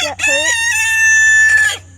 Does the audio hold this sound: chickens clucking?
yes